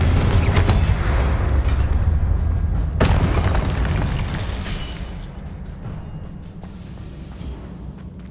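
A Confringo fire-blast spell detonates in Hogwarts Legacy, a loud booming burst with a sharp crack at about three seconds, then a rumbling roar that slowly fades, with no talk.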